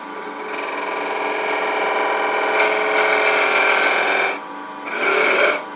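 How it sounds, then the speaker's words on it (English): A negative rake scraper cutting a wooden box on a woodturning lathe gives a steady, close, loud rasping scrape that runs unbroken for about four seconds, dips briefly, then returns in a short final pass. No one talks over it. "now I'm going to use a negative rake tool"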